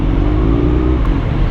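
Road traffic on a congested city street in the Philippines, a steady low engine rumble and whir from nearby vehicles, continuous and fairly loud with no voices.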